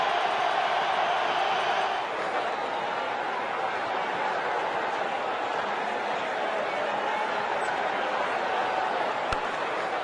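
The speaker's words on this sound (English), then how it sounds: "Oh, what a shot. The crowd has gone mad." A stadium crowd roars steadily in the cricket video game World Cricket Championship 2, a dense, continuous wash of cheering that swells briefly at the start.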